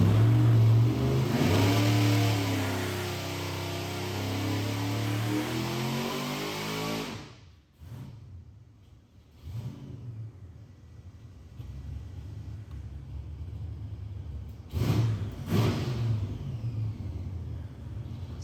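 A car engine running on E85 fuel revs hard and steadily on a dyno, rising loud and close, then drops off to a whirring wind-down with some rumble.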